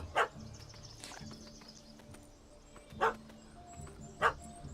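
In The Witcher 3, a puppy gives short sharp barks, about four separated yelps spread unevenly over a few seconds, fairly faint over a quiet game background.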